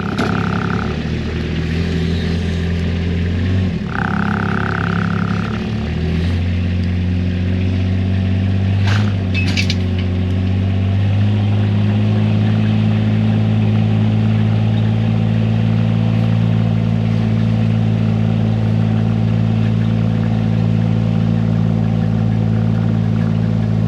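A tractor engine hauls a cherry log up a muddy hill, a loud continuous low drone that shifts pitch early on as the load changes, then settles into a steady heavy labouring hum.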